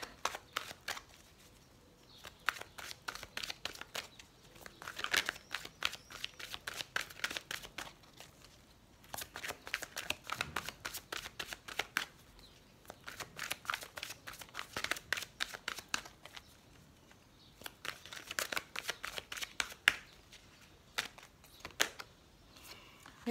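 Oracle cards from an angel love deck being shuffled by hand in repeated bursts of quick crisp riffling, each several seconds long and separated by short pauses, close and clear with no talking.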